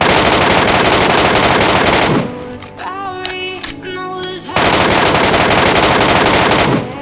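Rapid automatic gunfire from a PUBG Mobile battle, loud dense bursts that pause briefly around the middle for sharper tonal game effects, then resume at full intensity.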